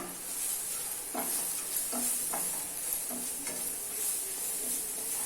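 Dry ground spices, coriander, red chili and turmeric powder, stirred and sizzling in a frying pan for chole chana masala, with a steady hiss and several soft spoon scrapes and knocks against the pan.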